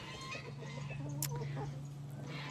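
Chickens cluck softly inside a small backyard coop, scattered calls over a steady low hum, with one brief sharp sound partway through.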